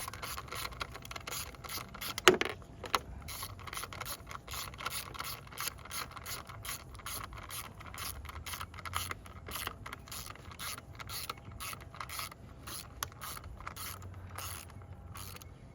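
A ratchet tightening a spark plug in the 3.6L engine of a 2011–2022 Jeep Grand Cherokee: continuous fast, fine clicking strokes at moderate volume, close up, repeated over many seconds with one sharper knock near the start.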